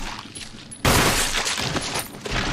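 Gunfire in the video game Resident Evil: after a quiet start, a sudden loud burst of shots erupts and continues as a dense, crackling barrage with no talk.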